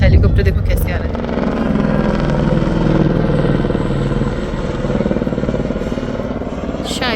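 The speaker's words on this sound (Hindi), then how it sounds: "हेलीकॉप्टर देखो कैसे आ रहा है।" A helicopter approaches at the Kedarnath pilgrimage site, its steady rhythmic rotor chop and engine drone filling the scene loudly and continuously while someone speaks over it.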